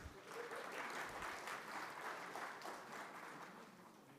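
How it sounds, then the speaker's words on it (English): Applause from the audience at a military veterans suppliers information day, a steady wash of clapping that holds evenly throughout at a moderate distance and fades slightly toward the end. "another round of applause"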